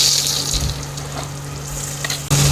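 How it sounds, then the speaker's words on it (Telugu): Freshly pounded ginger paste, two spoonfuls, fries in hot oil in a pan for a spicy chicken fry, giving a steady close sizzle with a louder burst of hissing right at the end. "ఇప్పుడు ఇందులోనే ఫ్రెష్గా దంచి పెట్టుకున్న అల్లం పేస్ట్ 2 స్పూన్లు వేస్తున్నా"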